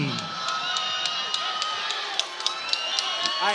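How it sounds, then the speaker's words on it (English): A fight-night crowd in a packed arena reacts to fighter Joe Roye as he prepares to face Shane Schomidie, with a steady roar of voices, scattered shouts and whoops, and sharp whistles rising throughout. "they are not happy with Joe Roye as he gets ready here to take on Shane Schomidie"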